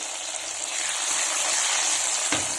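Onions sautéing in oil in a pan for a Tamil-style chicken fry, a steady, close, dense sizzle throughout that swells slightly, with a brief clack of a utensil near the end.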